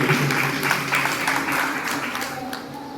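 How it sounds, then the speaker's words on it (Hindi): Audience applause at a Jain monk's Chaturmas establishment ceremony: steady, dense clapping from a large crowd, with voices over it, fading slightly toward the end. "एक बार जोरदार ताली बजाइए"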